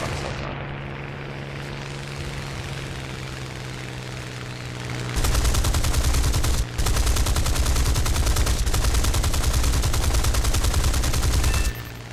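Jet cannon fire in an aerial combat game against a MiG-9, a loud rapid unbroken burst of gunfire lasting several seconds over a droning engine hum, briefly pausing midway before cutting off.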